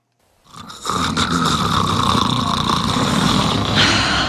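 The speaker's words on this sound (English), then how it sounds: "His snoring keeps me up all night." A man snores loudly and steadily, one long rasping breath filling the clip after a brief silent start.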